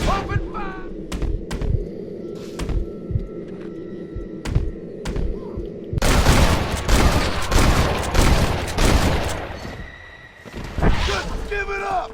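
Rapid bursts of gunfire from a shootout in Red Dead Redemption, loud and close, erupt in dense volleys over a tense game soundtrack after a voice calls out, continuing in clustered shots to the end.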